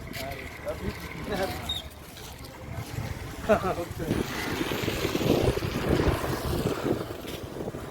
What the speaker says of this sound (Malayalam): ബോട്ട് പോകുന്നു